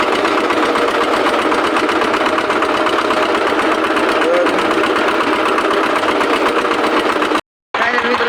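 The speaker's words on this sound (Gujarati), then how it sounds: "ફાઇનલ મિત્રો તો આવી રીતે ટ્રેક્ટર કરે છે" A small tractor engine runs close and loud with a steady, rough chugging drone, continuing throughout with only a brief dropout near the end, and a voice faintly present beneath.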